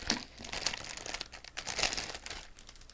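Plastic packaging from a Clinger Stingray IWB holster crinkles and crackles up close during unpacking, in a quick series of sharp rustling bursts.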